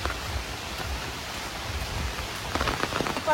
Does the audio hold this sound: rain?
yes